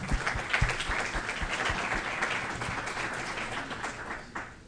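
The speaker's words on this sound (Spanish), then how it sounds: "Un aplauso, por favor." A conference audience claps at the start of a tech talk on mobile app development, a dense burst of applause with a few sharp, close individual claps that holds steady before tapering off near the end.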